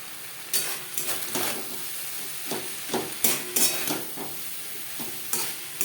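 Taro stolons are stirred into prawns frying in masala, with a spatula scraping and clattering in the pan at an uneven rhythm over a soft sizzle. Nobody speaks.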